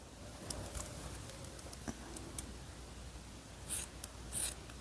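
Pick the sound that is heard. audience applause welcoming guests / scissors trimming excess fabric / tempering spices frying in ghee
scissors trimming excess fabric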